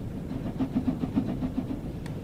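A steam locomotive hauling a fast freight train in Train Sim World 2 gives soft, rhythmic low chuffs that quicken slightly as the throttle opens, steady and moderately loud, with no talk.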